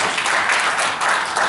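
Steady crowd applause fills the room at a New Year reception ceremony in a wedding hall, a dense, loud wash of many hands clapping continuously without a break.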